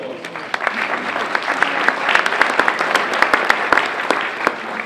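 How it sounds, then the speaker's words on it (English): Applause from an audience at an institute event, a crowd clapping with distinct individual claps standing out near the microphone, steady and fairly loud throughout, with possible faint voices underneath. "So let's give them a round of applause."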